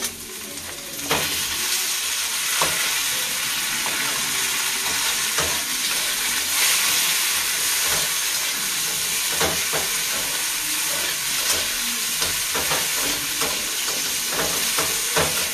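Loud steady sizzling and frying of chicken choka in a pan as tomato goes in, a dense hiss with scattered crackles and stirring clicks throughout.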